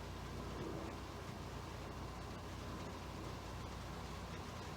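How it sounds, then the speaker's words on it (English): Rain begins falling outdoors, a steady dense hiss of drops with a low rumble underneath, continuous and fairly close throughout. "now it's going to start to rain on us"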